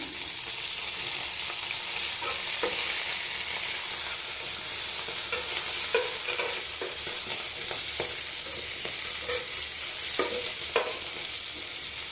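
Greens are stir-fried in a pan with garlic, onion and green chili, giving a steady, close sizzle of hot oil with scattered stirring scrapes throughout.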